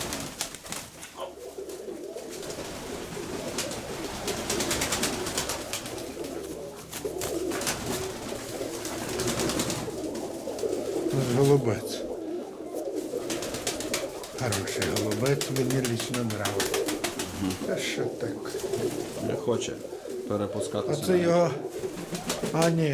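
Fancy pigeons coo repeatedly in low throaty rolls close by, mixed with rustling and occasional wing noise, while people talk over them.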